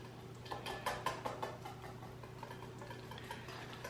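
A whisk clicks rhythmically against a bowl, beating a dressing of olive oil, Dijon mustard and Worcestershire sauce; the quick, faint strokes come in a run and then soften toward the end, with no talking.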